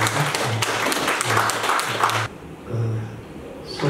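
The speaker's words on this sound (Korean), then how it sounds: "여러분 다 같이 하나님께 감사하고 환영하는 마음 박수 한번 주시기 바랍니다." Small congregation at a modest pioneer church clapping during a praise concert, brief bursts of applause over a low humming tone, breaking off abruptly partway through before faint sounds resume.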